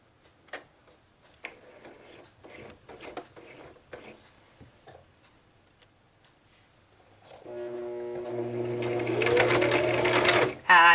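A sewing machine stitches through perforated paper on a shaky fold-out card table, quiet taps and ticks early, then a loud sustained steady whir building near the end.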